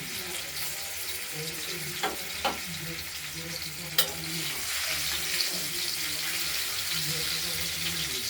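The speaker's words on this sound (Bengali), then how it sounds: "এবার পনিরগুলো আমরা এক এক করে ভেজে নিচ্ছি।" Paneer pieces frying in a pan, a steady, fairly loud hiss of oil running throughout, with a few faint clicks and taps of a utensil.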